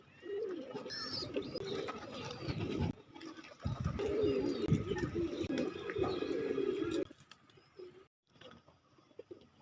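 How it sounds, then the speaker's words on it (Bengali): Pigeons coo steadily and close by in a loft, low burbling calls overlapping through most of the stretch, with a few chirps before it thins out near the end. "তো এইখানে অনেকগুলা যে কবুতরগুলা দেখতেছেন"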